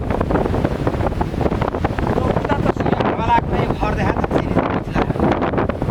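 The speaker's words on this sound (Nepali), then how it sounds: "होइन हावाको साउन्ड पनि हेरेको छ" Strong wind gusts across a hilltop at Kanchangadi, roaring and buffeting the microphone continuously, with a voice speaking faintly beneath it.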